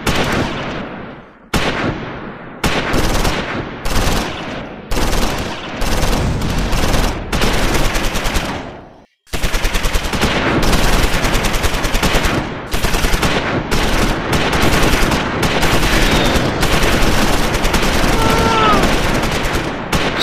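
Loud, sustained machine gun fire from the WWII strategy game Close Combat 5, set in the Battle of the Bulge, with rapid overlapping bursts and volleys, a brief pause near the middle, then continuous fire for the rest.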